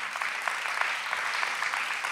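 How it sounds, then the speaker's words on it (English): Church congregation clapping their hands, a steady, dense patter of many hands that fills the space without a break, heard alone. "Give the Lord a hand clap if you're grateful for that message"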